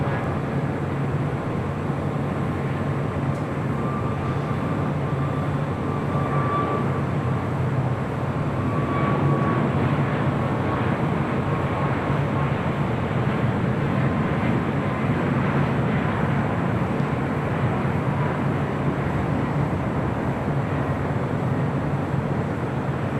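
A jet airliner roars in a steady, broad rumble at LAX airport. The roar stays loud and constant from start to finish, with no voices over it.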